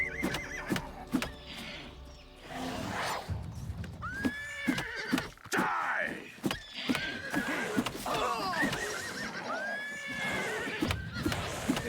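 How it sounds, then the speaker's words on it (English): A horse in a video game neighs and whinnies repeatedly between clip-clopping hooves and sharp impact sounds, loud and close, with several overlapping neighs throughout. "God damn, this horse is chunky."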